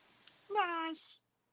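A person imitates a cat meow, mimicking the TV cat Midnight from the Andy Devine show: one short, clear, nasal meow rising then falling, in an otherwise quiet room.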